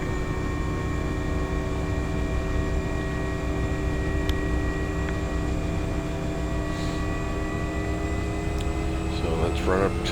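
A simulated Nimbus UH-1 Huey helicopter in X-Plane 11 spins its turbine and rotor up toward full RPM, giving a loud, continuous engine whine with steady layered tones. A brief voice comes in near the end.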